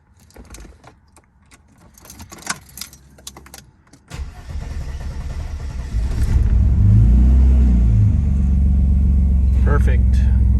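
A Toyota AE86 is started after sitting a while: keys jingle and clicks come first, then the starter cranks and the engine catches into a loud, close, steady rumbling idle.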